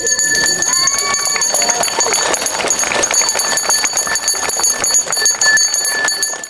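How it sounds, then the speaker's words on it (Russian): School's last bell rings at a graduation ceremony, a continuous electric ringing that carries on for several seconds over crowd murmur and background voices. "после чего звучит тот самый последний школьный звонок"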